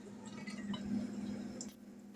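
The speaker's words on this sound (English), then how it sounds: "So we're going to pour this in here" Liquid is poured into a canning jar of corn, a short close trickle with soft gurgling and a faint glassy clink under a steady low hum.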